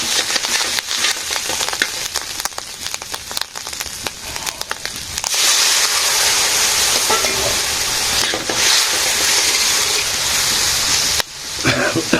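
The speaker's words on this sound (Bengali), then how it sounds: "একটু ভাজি ভাজি হোক কচুর শাক রান্না করবো মাছের ডিম দিয়ে রুই মাছের ডিম" Taro leaves frying with rohu fish roe in a pan, a steady loud sizzle with dense crackling and occasional stirring scrapes, continuous throughout with no voices.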